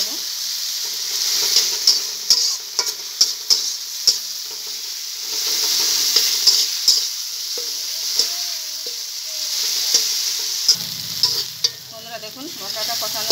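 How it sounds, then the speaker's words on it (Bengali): Chopped tomato frying and being stirred into a spiced masala in a pan, with a steady hiss of sizzling oil broken by repeated sharp scrapes and clicks of the spoon, close and clear, with no talking. "টমেটো কুচিয়ে নিয়েছি, এটা দিয়ে দেবো। তার সঙ্গে ভালো করে কষিয়ে নেব।"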